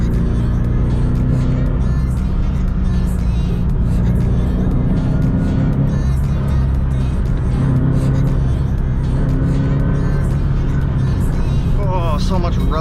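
A Subaru BRZ, rear-wheel drive, drives a wet mountain road, with loud steady engine drone and road roar filling the cabin, while the rear tires scrape and rub against the body in the background.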